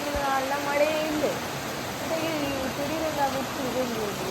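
Heavy, steady rain falls outside a village home while fish curry cooks, a dense continuous wash under a person talking.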